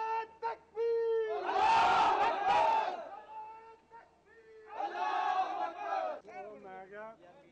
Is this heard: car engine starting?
no